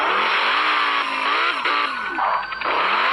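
A car in the Gangster Vegas video game drives hard and skids, a continuous loud engine drone with wavering pitch and tire squeal sweeping across the short stretch, no voices over it.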